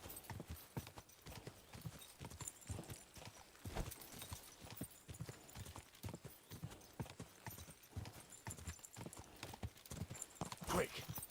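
Rapid rhythmic hoofbeats of a galloping horse in Kingdom Come: Deliverance II pound steadily throughout, close and even.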